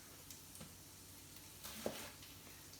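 Bacon fries in a pot with a faint, steady sizzle and a few soft crackles. It plays alone, with no talking.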